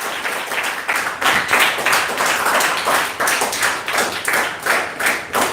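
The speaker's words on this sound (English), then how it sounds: "So big round of applause to everyone." Audience applause after a speech competition session, a dense, steady wash of many hands clapping throughout, moderately loud and close, with no talk over it.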